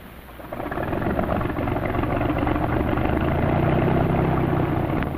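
A steady crop-dusting propeller-plane engine drones at moderate distance over desert farmland, a rough broadband roar with a low hum that swells slightly louder toward the end.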